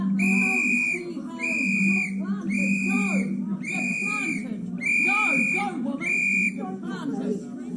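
A shrill whistle is blown over and over in sharp, regular blasts, loud and close, while people shout and argue underneath.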